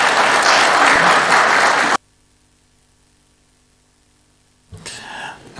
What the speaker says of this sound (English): So an applause to all of these for their good work.